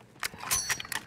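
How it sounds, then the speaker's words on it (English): A weapon reloading in a video game, heard as a quick series of four metallic clicks and clanks with a bright ringing edge, spaced about a fifth of a second apart, crisp and close. "I need to reload"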